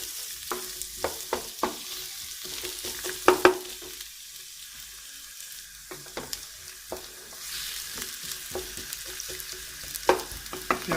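Finely chopped onions fry in hot oil in a karahi for a village-style rabbit dish, giving a steady soft sizzle broken by frequent scraping and stirring clatters of a spoon against the pan.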